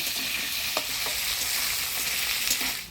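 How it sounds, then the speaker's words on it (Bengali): Potatoes stirred in hot oil tempered with dry red chili and whole cumin give a steady, close sizzle with a few soft scraping strokes of the spatula. "ফোড়নের তেলে আলুটা ভালো করে নাড়াচাড়া করে নিলাম"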